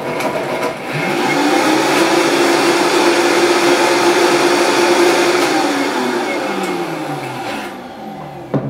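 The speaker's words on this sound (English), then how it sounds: "Let's blend it." A blender whirs steadily as it purées a raw nettle salad dressing, a loud, continuous motor drone with a rising pitch that settles, starting up after a brief pause and winding down near the end.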